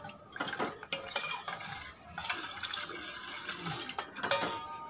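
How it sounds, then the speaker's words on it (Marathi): Water is poured and stirred into a pan of cabbage manchurian gravy, with a steady splashing and clinking of a spoon against the cookware throughout. "आता आपण यात थोडं पाणी घालूया।"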